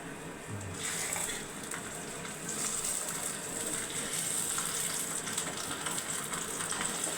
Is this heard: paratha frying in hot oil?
yes